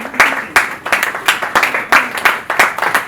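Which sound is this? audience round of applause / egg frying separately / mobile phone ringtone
audience round of applause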